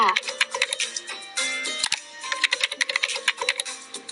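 Fast typing on a computer keyboard while entering text into spreadsheet cells, a dense run of crisp key clicks with brief pauses, close and fairly loud.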